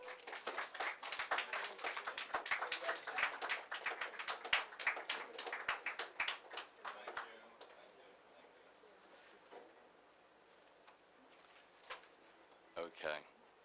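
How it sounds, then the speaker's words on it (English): An audience applauds a speaker at a lecture on Rossetti and Browning, a dense burst of clapping that thins out and fades to scattered claps and room noise. "let's give a warm round of applause for Tom DiEgidio."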